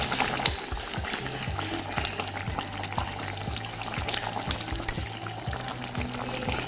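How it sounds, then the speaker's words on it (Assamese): Pumpkin curry with a spoonful of ghee simmers in a pot, giving a steady bubbling sizzle with soft rhythmic pops and a brief clink near the end, close and continuous. "এতিয়া অকণমান উতলিবলৈ দিম নমাৰ আগত এয়া চামুচ মই ঘিউ দি দিছোঁ"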